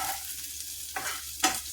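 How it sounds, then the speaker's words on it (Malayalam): Onions sizzling in a pan for a Kerala curry, a steady low frying hiss broken by two brief bursts of stirring, close and moderately quiet with no voices. "നമ്മുടെ ഉള്ളിയൊക്കെ വാടി വരുന്നുണ്ട്."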